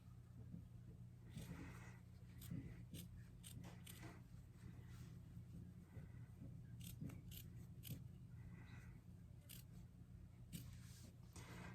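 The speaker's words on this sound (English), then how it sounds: "I'm going to trim that seam allowance to about half." Scissors trimming the fabric seam allowance on a sewn frog plush, a series of quiet, close snips in uneven rhythm over a low steady hum, no talking.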